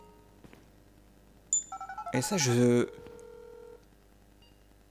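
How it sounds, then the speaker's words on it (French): A phone in GTA 5 dials and rings through a PS4 controller speaker, starting with a brief tone, then a quick run of dial beeps, a loud harmonic ring burst and a lingering tone. A voice speaks briefly. "le son du téléphone, il est dans la manette"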